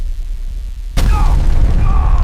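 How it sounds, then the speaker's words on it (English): A meteor crashing to the ground in front of a biodome sets off a sudden heavy boom, then a loud, rumbling roar of fire and debris continues after a quieter lead-in. "The explosion throws me across the ground"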